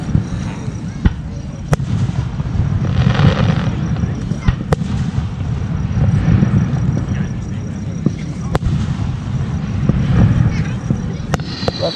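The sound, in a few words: fireworks exploding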